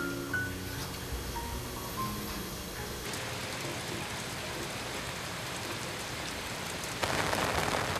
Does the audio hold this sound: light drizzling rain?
yes